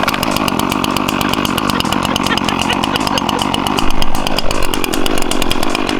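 Small two-stroke lawn equipment engine started and revving as it warms up, loud and close, a steady buzzing drone that swells briefly midway, heard alone.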